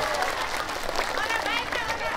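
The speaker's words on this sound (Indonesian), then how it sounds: "Tepuk tangan ya" Indonesian audience applauding at a lively community gathering, a steady wash of clapping with voices and shouts mixed in throughout.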